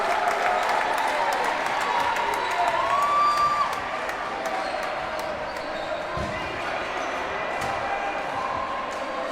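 Home crowd at a foam dodgeball match in Manchester between Great Britain and the USA, a steady roar of cheering and applause in an indoor arena with ball bounces and a commentator talking over it.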